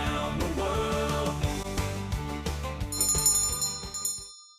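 Bell-like chimes and ringing tones layered into a cheerful upbeat group song with steady rhythmic backing, the bright bells growing more prominent toward the end before the music fades out.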